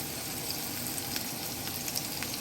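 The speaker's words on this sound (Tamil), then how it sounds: "இதுக்குள்ளே ஆயிலில் வெங்காயம், ஒரு சின்ன வெங்காயம் சின்ன சைஸ் ஒன்று போட்டுருக்கேன்" One small onion frying in hot oil in a pan for shrimp gravy, giving a steady, close sizzle and crackle with no talking.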